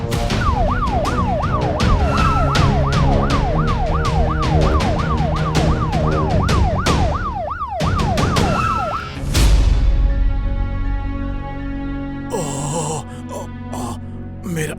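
A loud ambulance siren wails in rapid rising-and-falling sweeps, then cuts off abruptly, followed by engine rumble and brief voices.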